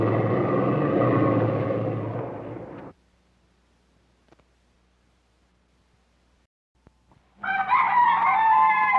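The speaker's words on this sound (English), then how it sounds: "Everyone has heard the crowing of a rooster telling the world that he is cock of the walk" A rooster crows twice, the first long call fading out, then a near-silent pause before a second loud, close crow rises at the end.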